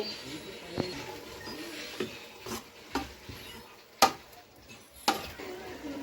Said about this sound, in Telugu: పసుపు వేసుకొని కలుపుకోవాలి